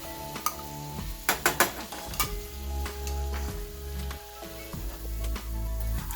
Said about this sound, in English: I'm gonna mix my tomato paste